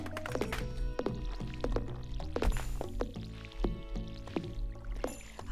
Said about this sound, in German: Nein, ich gieße mal